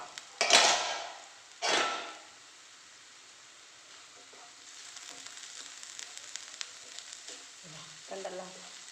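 Sliced onions for onion fritters frying in hot oil, two loud sizzling bursts early as they are stirred, then a steady low crackle with small metallic scrapes and clinks of a spoon against the pan.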